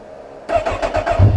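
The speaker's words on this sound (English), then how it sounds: "start your bike and warm it up" A motorcycle engine is started for warming up before an oil change, giving a close, loud start followed by a short pulsing idle, with no talk.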